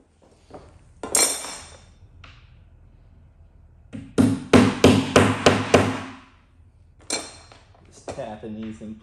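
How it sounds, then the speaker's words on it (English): A burst of quick, sharp taps close by as parts are tapped into place in a Doctor Who pinball machine, several hits in a row with brief pauses between groups, plus a few scattered knocks. "Tapping these in place so they don't fall out."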